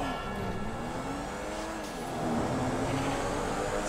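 A car being driven in the video game GTA V, a continuous engine drone with shifting pitch and faint tire noise, steady and close with no speech.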